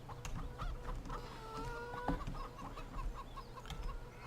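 A flock of chickens in the Farming Simulator 17 video game clucks continuously at low volume, with a few short higher calls rising above the steady murmur of the coop and no speech.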